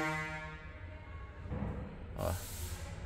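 Marine air horn with a 0.5-inch solenoid fitted to a Scania P360 truck, giving a sustained, rich harmonic blast for about a second and a half before it drops away into broader noise and rumble.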